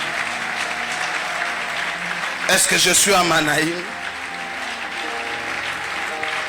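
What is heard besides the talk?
church congregation applauding and cheering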